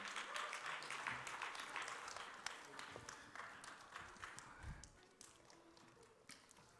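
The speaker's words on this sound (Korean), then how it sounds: "예, 다시 한번 큰 박수로 격려하겠습니다." Congregation applause at a youth worship service, a dense wash of many hands clapping heard at a distance in a church hall, steady at first and then thinning out toward the end, with some voices under it.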